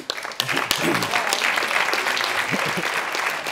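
Dense audience applause fills the stretch, close and steady after a brief quieter start, with sharp individual claps standing out and faint voices underneath.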